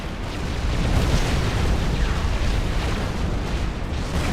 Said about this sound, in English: Mass torpedo fire even.